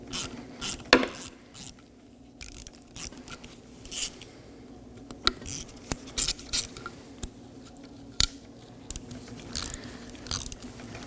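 A hand ratchet works loose the two T30 Torx screws holding the electronic parking brake actuator on the rear brake caliper of a 2019-2024 Chevrolet Equinox, giving sharp irregular clicks and crunching bursts close by over a quiet background.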